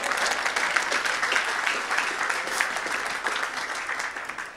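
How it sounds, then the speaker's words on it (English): Sustained audience applause at a live comedy show, a dense steady patter of many hands clapping with a few brief peaks, filling the room alone without talk. "give him a round of applause"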